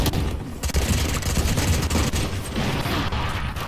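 Dense, continuous bursts of gunfire in Valorant, with rapid automatic shots rattling throughout, loud and close, with no talking.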